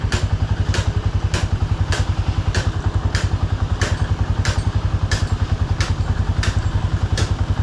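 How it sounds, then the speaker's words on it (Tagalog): Small TMX 125 Alpha motorcycle engine, with a fault that blows bulbs and the regulator, idling with a steady fast clatter and short regular blips of revving roughly every two-thirds of a second, loud and close. "konting rev lang, konting revolution lang ay parang puputok na"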